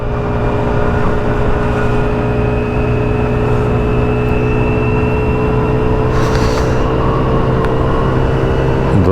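A Sym Symphony 50cc scooter rides along a quiet road through trees, its small engine droning steadily and loudly throughout with a constant hum of wind and road noise, close up.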